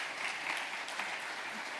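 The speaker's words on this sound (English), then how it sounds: "Big applause." Applause from the audience at the Brick Award 24 architecture symposium fills a short, steady wash of clapping, moderately quiet and even throughout.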